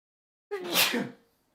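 A single human sneeze, close and fairly loud, building over about a second with a breathy burst and then trailing off, heard alone without talk.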